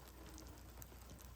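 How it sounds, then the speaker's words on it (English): Rain falls steadily outdoors, a faint, even hiss of drops pattering on surfaces with no pauses during the brief moment. "The rain's kind of coming down."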